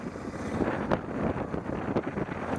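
Gusty wind buffets the microphone outdoors, with rushing bursts rising and falling over a low roar.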